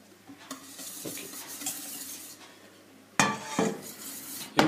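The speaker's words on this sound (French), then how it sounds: "Je remue sans discontinuer pour éviter que ça accroche" A utensil scrapes and stirs thick pastry cream steadily around a saucepan, close up, with soft rhythmic scraping that grows louder and sharper toward the end.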